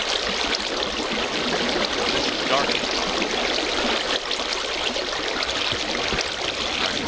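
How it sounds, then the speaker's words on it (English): Flowing water in the Minecraft video game, a steady broadband rush of streaming and trickling water that runs without a break throughout, with a voice talking briefly over it. "you can hear the water flowing"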